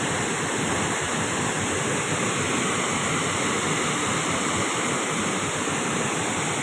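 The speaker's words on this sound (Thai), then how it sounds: "น้ำตกตาโตน จังหวัดชัยภูมิครับเพื่อน" Tat Ton waterfall in Chaiyaphum, Thailand, roars as a steady, dense rush of falling water, loud and close, continuous throughout with no voices.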